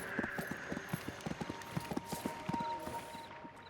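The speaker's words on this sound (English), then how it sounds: "Sound of your horse hooves disturb an old soldier from a small farmhouse" Horse hooves clip-clop at a steady walking rhythm in the fantasy game Disciples Liberation, a run of crisp, evenly spaced hoofbeats over a soft ambient game background.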